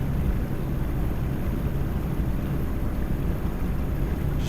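A truck in Euro Truck Simulator 2 grinds up a steep climb with the revs running high, a steady dense engine drone with broadband roar filling the whole stretch and no voices.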